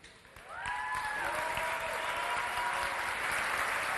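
Audience applause at a Cajun comedy show, a crowd clapping steadily and fairly loudly after a quiet start, continuing to the end with a few faint voices mixed in.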